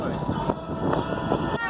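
A small boat drives across a lake, its engine droning steadily under wind buffeting and a voice talking over it.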